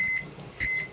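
Low-temperature alarm on a smoker thermometer during a brisket cook, giving two short, high electronic beeps a little over half a second apart, close and clear over a quiet background.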